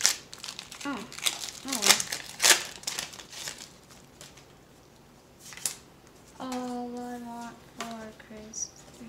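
Pokemon Lost Thunder booster packs being torn open, close crinkling and crackling foil wrappers in bursts, with excited talking over and between the sounds.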